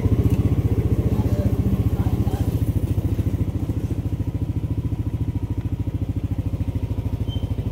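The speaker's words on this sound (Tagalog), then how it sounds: "subukan natin paandarin kung aandar na nga ba yung ating motor, yung Aerox na to" A jump-started Yamaha Aerox motorcycle engine with a fault that makes it stall, running close by with a steady, rapid thumping idle that holds for several seconds with no voices.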